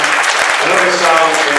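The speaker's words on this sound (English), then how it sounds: "So again, a round of applause," Applause from an audience at a book launch event, dense clapping throughout with a voice speaking over it.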